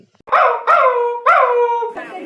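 Dogs as a sound effect, four loud drawn-out howling barks in quick succession, close and clear against an otherwise silent background.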